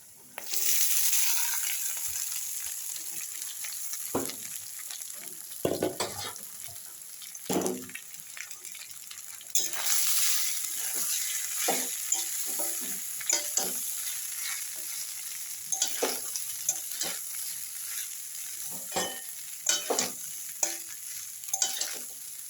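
Cumin fries in oil for poha pulao, a fairly quiet steady sizzle broken by frequent scraping and clinking of a stirring spoon in the pan.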